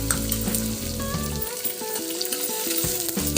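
Curry leaves sizzle and crackle loudly in hot oil with golden fried onions, a steady close frying hiss with bright spitting pops and occasional stirring, rice usali being cooked.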